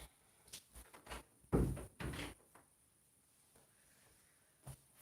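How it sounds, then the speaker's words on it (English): An indoor door pushed shut with a single firm thud and a brief rattle, set in a quiet room with a few faint knocks and movements around it. "Just close the door quick here."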